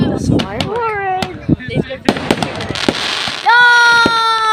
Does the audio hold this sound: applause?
no